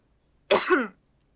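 A single short, sharp cough, close and clear, stands alone against silence.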